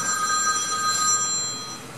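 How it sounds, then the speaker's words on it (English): A telephone ringing with steady electronic tones over a faint background hum, continuous and moderately loud, with no talking. "The phone has this habit of ringing when you don't ask it to ring"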